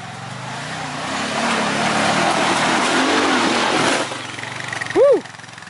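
Honda Pioneer 500 side-by-side engine labors steadily up a steep hill of soft soil, a continuous loud drone that eases off near the end, followed by a brief rising-and-falling whine.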